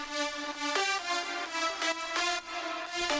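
Dry progressive house synth lead played in FL Studio without reverb, a bright, harsh buzzy tone stepping through a short melodic phrase of sustained notes, clear and upfront with no voices.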